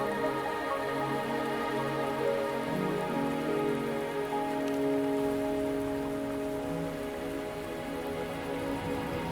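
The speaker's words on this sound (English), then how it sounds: "Are you trapped here by the rain?" Steady rain in the video game Wuthering Waves patters continuously on a surface, a dense, even hiss with no voices.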